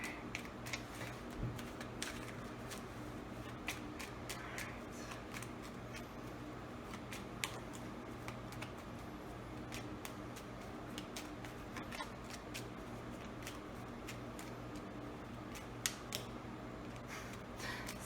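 Tarot cards shuffled steadily for a long stretch, with quiet repeated papery clicks and snaps in a loose rhythm over a low constant room hum, faint and close.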